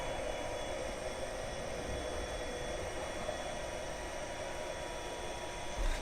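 The steady engine drone of a Q400 airplane in the video game Besiege is a continuous, even hiss and rumble at moderate level with no talk over it.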